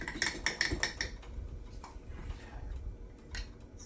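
Egg, cocoa powder and almond flour stirred together in a cup for a keto mug cake, heard as quick rhythmic clinks and scrapes of a utensil against the cup, strongest early and then softer and intermittent.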